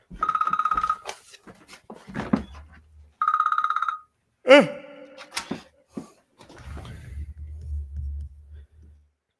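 A mobile phone rings in two short bursts of a bright electronic ringtone, close and loud, separated by clicks and bumps, with faint talk and low sounds after.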